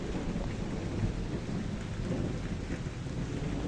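A sustained low rumble of thunder rolls beneath steady downpour in an overhead storm, broad and unbroken for several seconds, with no one speaking.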